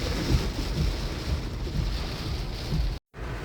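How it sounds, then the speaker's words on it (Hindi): A cloudburst pours heavy rain onto flooded streets and a road intersection, a dense, loud, continuous roar of water that drops out for a moment near the end. "क्लाउड बर्स्ट है लिटरली।"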